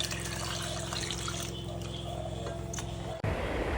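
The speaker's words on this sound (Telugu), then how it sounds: "మీకు కావాల్సిన వాటర్ పోసుకోండి." Water poured steadily into a pot of mango dal soup, a continuous close splashing trickle that stops abruptly near the end.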